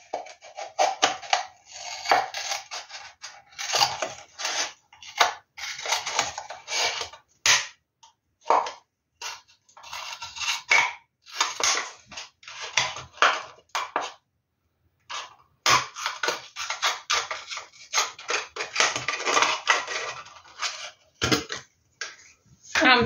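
Scissors cut around a marker-drawn line on card to form a recycled box, giving close, irregular crisp snips and creaks in bursts with short pauses.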